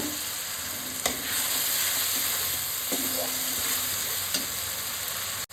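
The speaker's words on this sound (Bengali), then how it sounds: "এটাকে আমি সুন্দর করে এবার একটু ভালো ভালো করে ভাজা ভাজা করে কষিয়ে নেব।" Onions and spices being fried and stirred in a pan for a spicy tilapia fish curry give a loud, steady sizzle broken by a few utensil scrapes and clinks.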